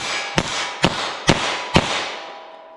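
Four sharp, loud gunshots of .32 S&W Long semi-wadcutter rounds fired from a snub-nose revolver with a 2-inch barrel, evenly spaced about half a second apart, each with a brief ringing tail.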